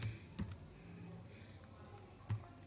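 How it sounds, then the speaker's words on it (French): Quiet typing of a Linux terminal command on a computer keyboard, a few soft scattered key clicks with two slightly louder strokes, no speech. "Pour vérifier le paquet, on tape la commande dpkg -l"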